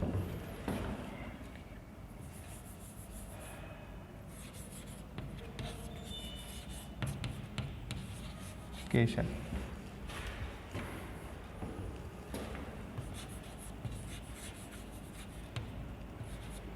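Chalk or marker scratches and rubs across a classroom board during a matrix multiplication lesson, steady scraping strokes over a hissy room background with no clear talk.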